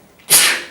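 A single short, sharp human sneeze bursts out abruptly and close, a breathy hiss that fades quickly.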